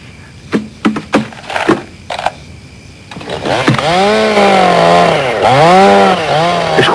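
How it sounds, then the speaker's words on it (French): A few sharp knocks and short bursts at first, then a chainsaw roars to life and runs loudly, its pitch rising and falling as it revs. "Je croyais lui avoir dit de me couper cette tronçonneuse"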